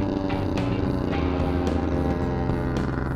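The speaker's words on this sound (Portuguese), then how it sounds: "Uma Califórnia com escapamento esportivo." A California motorcycle fitted with a sport exhaust runs nearby with a steady droning engine hum and a few sharper bursts, heard alone without talk.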